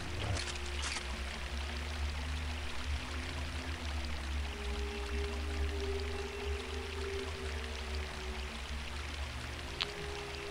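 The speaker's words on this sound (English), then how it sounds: "you hear the water" Flowing water in the Unreal Gold video game, a steady rushing stream with a low rumbling bed, even and continuous throughout, with a couple of faint clicks and no talking.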